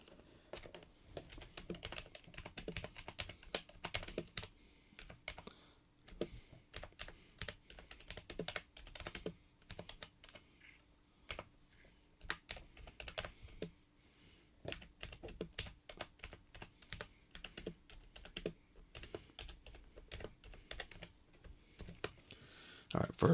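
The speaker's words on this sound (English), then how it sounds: "I'm typing in a comment right now over on Discord." Steady bursts of typing on a computer keyboard during a late-night stream, a Discord comment being entered, with rapid clustered key clicks and brief pauses, close and fairly quiet, with no speech.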